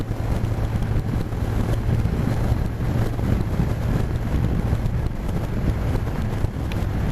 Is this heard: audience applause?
no